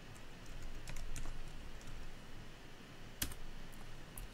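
Fingers type on a computer keyboard to post on Facebook, a quick run of soft, close clicks with a few sharper taps, faint and steady with no talking.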